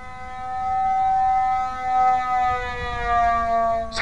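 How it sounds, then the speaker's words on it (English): An RC P-51 Mustang model plane from Hobbyking Art Tech makes a low, fast flyby, its propeller blade rubbing the front of the cowling and producing a steady, siren-like whine that swells and wavers throughout. "It's just the blade with the speed and the power, it's coming into contact with the front of the cowling."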